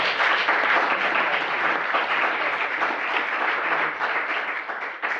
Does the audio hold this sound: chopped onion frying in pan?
no